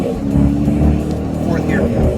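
A car with a Tremec TR-6060 manual transmission pulls away, and its engine drones loud and close from inside the cabin with a muffled voice over it.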